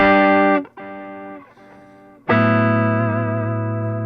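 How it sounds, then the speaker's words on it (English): Electric guitar played through a custom amplifier built from a toaster, whose element layout adds a natural echo delay; sustained chords ring loud and close, a short decaying passage in the middle before a fresh strong strum rings out. "the way the elements are set up in the toaster, it creates a natural echo delay"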